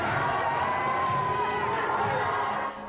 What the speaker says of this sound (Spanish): Con cantos, aplausos, gritos de alegría y pañuelos blancos, así fue recibido el Papa Francisco